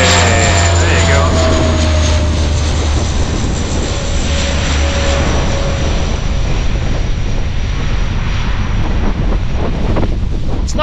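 Propeller aircraft engine drones loud and steady throughout, heard from on board with heavy wind buffeting and a faint tonal whine.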